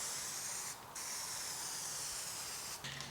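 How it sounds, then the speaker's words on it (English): Rust-Oleum spray paint hisses onto bare steel on a GTO restomod. The spray is a close, continuous hiss with two brief dips where the nozzle is released. "get some of this Rust-Oleum on here"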